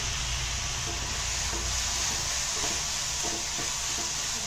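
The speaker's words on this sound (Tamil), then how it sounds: "நல்லா ஃப்ரை பண்ணிக்கலாம்" Ginger garlic paste with green chili and fennel seeds fries in hot oil for prawn cutlets, producing a loud, steady, close sizzle with faint stirring and no talking.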